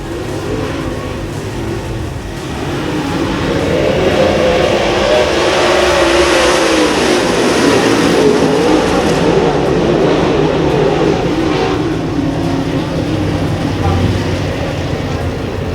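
Dirt track race cars roar into a turn, their engines swelling into a loud, continuous rumble that holds steady. A voice appears to talk over the engines.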